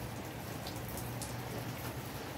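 Rain falling in Curitiba, a steady dense hiss of drops on surfaces with scattered louder taps, constant and fairly faint, with no voices.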